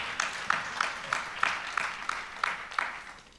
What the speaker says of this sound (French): Bravo, un grand applaudissement,